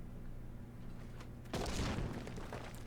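A burst explosion goes off in Final Fantasy XIV during a dungeon fight, a single sudden booming blast that rises out of a low background hum and fades over about a second.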